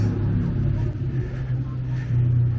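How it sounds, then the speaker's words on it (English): Loud, steady engine rumble from motorcycles on a shopping street in Durrës, Albania, low and continuous with a slight rise in revving near the end. "They have Loud Motorcycles everywhere"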